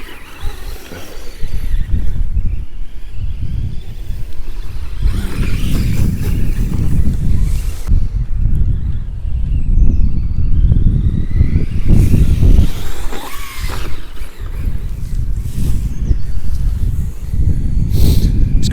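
An FTX Zorro RC car with a brushed motor drives outdoors, its motor whining over gusty wind and rough crunching as it runs across uneven ground, near and fairly loud.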